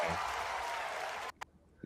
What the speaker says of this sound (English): They clap for themselves.